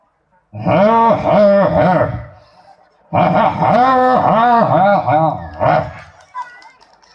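A mimicry performer voices two dogs barking and snarling at each other on stage, giving two loud, close bursts of rapid growly barks separated by a short gap.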